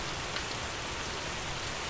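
Rain falls on a Friday night as a steady, dense hiss of drops on surfaces. The sound is soft and continuous, with no voices.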